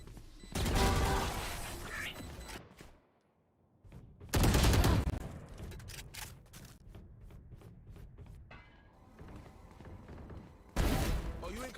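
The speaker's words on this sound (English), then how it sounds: "Swarm grenade out." Swarm grenade detonations in a Valorant pro-series playoff match: loud bursts of crackling explosions around one, five and eleven seconds, separated by quieter gunfire clatter, with caster commentary over the action.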